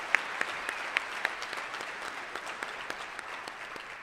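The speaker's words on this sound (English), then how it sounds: "give them a round of applause right now if you would" Audience applause at a school sports awards ceremony, a steady moderate patter of many hands clapping with a few sharper individual claps standing out, no voices over it.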